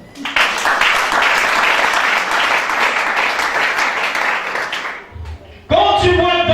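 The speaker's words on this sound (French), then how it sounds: "Acclame Charles" A church congregation breaks into loud, sustained applause for about five seconds, then it fades out and a voice follows.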